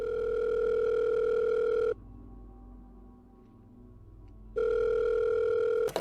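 Telephone ringback tone from a 911 call in the video game Ready or Not, two long steady tones separated by a quiet gap of faint line hiss, clear and close.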